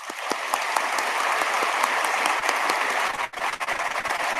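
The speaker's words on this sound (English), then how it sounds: "Let's give them a round of applause." Sustained applause from an audience at a university graduation commencement, dense and even clapping that briefly dips near the end before picking back up.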